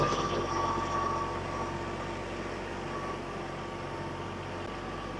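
A farm tractor running steadily while hauling loads of rocks across rocky ground, its engine a continuous loud drone with a low rumble and a faint whine, with no talking.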